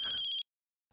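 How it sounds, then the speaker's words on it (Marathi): A phone rings once with a short, bright electronic trill, close and clear, then cuts to silence. "तन्वीचा फोन आहे."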